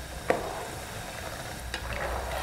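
Peanuts frying and being stirred in hot oil for satay sauce, a soft steady crackle with a couple of sharp scraping clicks from the stirring, heard close and alone.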